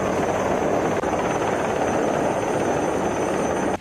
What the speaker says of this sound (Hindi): थोड़ी ही देर में हेलीकॉप्टर समंदर में जहाज के पास मंडराता दिखा।